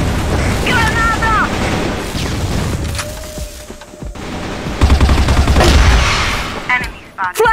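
Grenade and flashbang blasts mixed with bursts of gunfire in a tactical shooter game, loud and close, with a heavy burst near the middle and shouted voice lines layered over the action.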